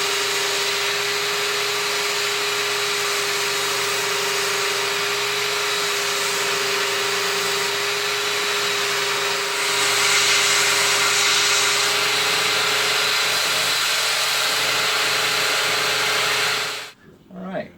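A power sander grinds steadily against a wooden broom-handle pole for a homemade pole spear, a loud continuous whine with a slight shift midway before stopping abruptly.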